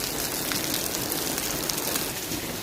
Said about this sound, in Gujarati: અહીંયા વરસાદ થાય છે